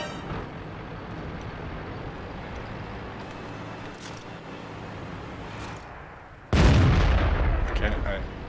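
A single loud tank cannon shot booms out in World of Tanks, fired from an M6A2E1 heavy tank. It breaks sharply over a steady low engine rumble and then rolls on as a long, heavy echo.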